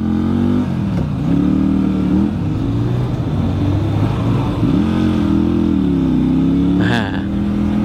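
WMOTO Morbius 250 motorcycle accelerating hard, its engine note rising and falling through gear changes at close range, loud and steady throughout, with a brief sharp noise near the end.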